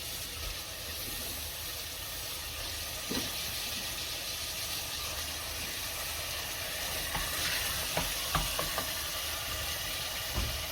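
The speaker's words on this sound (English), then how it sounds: "Once mixed, add the chopped lamb." Chopped lamb frying in a pan of curry base, a steady low sizzle with scattered small clicks and scrapes of stirring, fairly faint and continuous.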